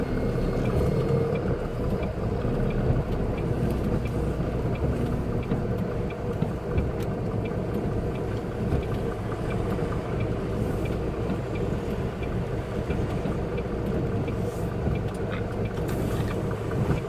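Concrete mixer truck reversing onto a concrete pump in Liverpool city centre, a steady low engine drone and rumble heard from the cab, continuous and unbroken with no talk.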